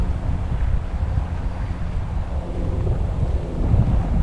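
Steady wind buffets the microphone on the beach at Lucas Bay, St. Maarten, a constant low rumbling roar that swells slightly toward the end, with surf faintly mixed underneath.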